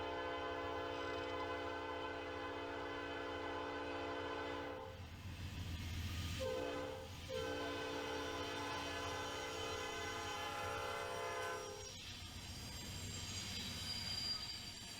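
A freight train of double-stack intermodal cars rolls past as locomotive 4271's horn blares in long sustained blasts, with the rumble and squeal of wheels continuing throughout, loud and close.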